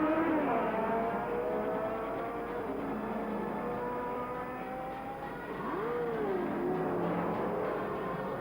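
Race cars at Le Mans on race day scream past one after another, their high engine notes rising and falling as they pass, with a continuous roar of traffic from the track in the background.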